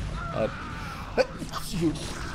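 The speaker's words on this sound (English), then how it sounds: "I gotta sneeze" A single sharp human sneeze bursts out in the middle, brief and close, with soft breathing around it and a male caster's voice nearby.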